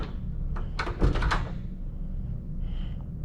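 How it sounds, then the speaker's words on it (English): A door locks shut at a Social Security Administration building: a quick cluster of metallic clicks and a latch thunk, fairly close, followed by quiet room tone. "you heard the door lock, you know, when she went back in there"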